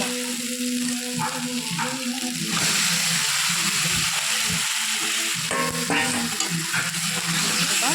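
Chicken stir-fried in a cooked-down spice paste, with a loud continuous sizzle and repeated scraping stirs of a utensil in the pan, close up.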